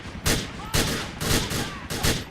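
Gunfire in GTA IV during a shootout with thugs and heavily armed NOOSE officers: four loud, booming shots or short bursts spaced about half a second apart, each trailing off with a rumbling echo.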